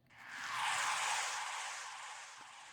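A synth sound processed through a phaser and a scatter delay, swelling in as a bright airy wash that peaks early and then slowly thins out over a few seconds, heard alone with no talking.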